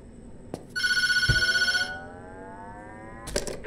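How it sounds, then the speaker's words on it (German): A telephone rings in the Tattletail video game, a bright electronic trill that sounds for about a second, then fades into a falling tone, with a few sharp clicks around it. "Klingelt das Telefon jetzt wieder?"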